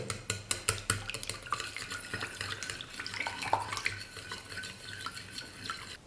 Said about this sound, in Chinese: 4克的酵母，2克的小苏打，充分的搅拌均匀。